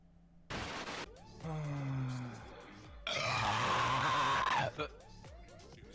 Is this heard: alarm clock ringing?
no